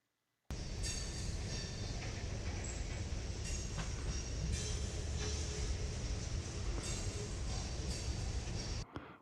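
Continuous loud rumble and clatter of a passing train, steady throughout with rhythmic wheel clicks, cutting in abruptly and ending suddenly, no voices.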